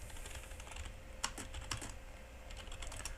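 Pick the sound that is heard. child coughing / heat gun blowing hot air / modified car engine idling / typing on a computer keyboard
typing on a computer keyboard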